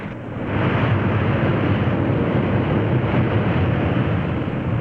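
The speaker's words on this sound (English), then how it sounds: "you hear the engines roar soon after you're on the ground, remember that's what he's doing, reversing the props to stop the airplane" A 1950s propeller airliner just after landing roars with a loud, broad, steady rush as the propellers are reversed to brake, rising in the first second and then holding unbroken to the end.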